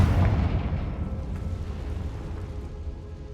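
A Confringo fire spell bursts in Hogwarts Legacy with a deep, rumbling explosion that hits loud at once and then rolls off into a long fading roar, heard alone with no talking.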